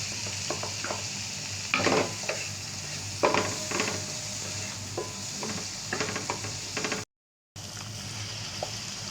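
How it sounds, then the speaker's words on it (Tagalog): Garlic sautéing in a pan gives a steady close sizzle, with scattered scrapes and clinks of a utensil stirring it, brief and fairly quiet. "Garlic ang una natin igisa."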